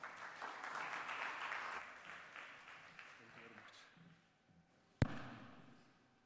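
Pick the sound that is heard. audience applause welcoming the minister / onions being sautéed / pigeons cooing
audience applause welcoming the minister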